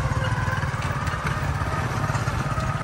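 A motorcycle engine chugs in a steady, throbbing idle close by, with a rough rhythmic low pulse and light clatter throughout.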